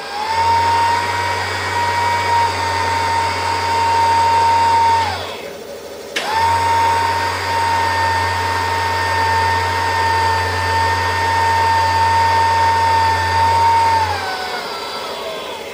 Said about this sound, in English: you can also see the power feed mechanism a little better, running back to this Cardan shaft